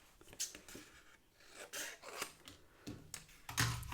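Scissors snip through cardstock in a run of short, close rasping cuts of uneven rhythm, quiet and without talk.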